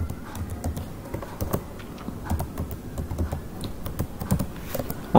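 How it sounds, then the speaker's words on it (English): A password being keyed in on a computer keyboard, with a steady run of light, close key clicks at an uneven pace and no voices. "it is prompting me to enter the password, so I'll key in my password"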